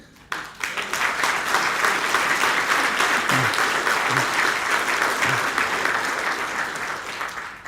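A rally audience at a political event in Manchester breaks into sustained applause. The dense, even clapping swells quickly after a quiet start and holds steady at full strength, with a few faint voices mixed in.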